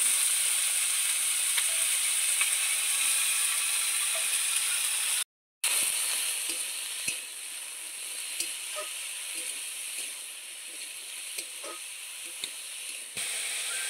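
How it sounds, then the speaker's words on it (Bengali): Squash fruit fries with onions and five-spice in a pan for a Bengali dish, a continuous bright sizzle and hiss close by with occasional stirring scrapes and a brief cut in the middle. "বেশ কিছুক্ষণ 5 ফোড়ন আর পেঁয়াজের সঙ্গে কোয়াশ ফলটাকে ভেজে"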